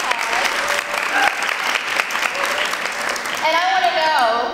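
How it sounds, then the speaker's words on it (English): Loud audience applause at a modest fashion week event in Istanbul, dense steady clapping filling the room with a voice starting to speak over it near the end. "So can we please give her a big round of applause?"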